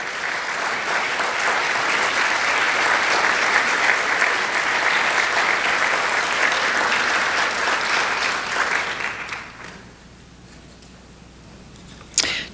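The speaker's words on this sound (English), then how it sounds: "and Ben and Ethan, all of you stand up so everyone can give you a well-deserved round of applause." An audience at a Yavapai County justice panel event breaks into sustained, loud applause for about nine seconds, then the clapping fades into quieter room noise with a brief sharp sound at the end.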